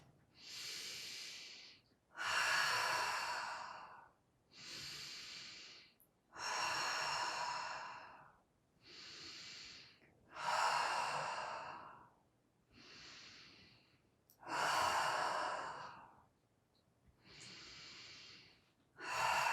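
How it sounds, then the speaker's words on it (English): Connected rhythmic breathing during a breathwork session, about ten long, loud, airy breaths in a steady cycle with only brief pauses between them, close to the microphone and with no one speaking. "Connecting the inhale and the exhale at the top and the bottom, a full circle of breath."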